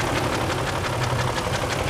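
A 2004 Range Rover with a BMW engine and a slight exhaust leak idles nearby, a steady loud rumble with a faint rhythmic ticking pulse running through it, no voices.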